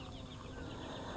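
A hen with chicks makes soft, faint clucks nearby, heard in a single brief burst with no speech.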